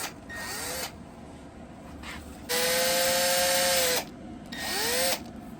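Small electric drill with a 1/16 inch bit boring through small metal tabs, heard as three high whining bursts, the middle one longest and steady, with pitch sweeping up and down as the motor starts and stops, close and alone.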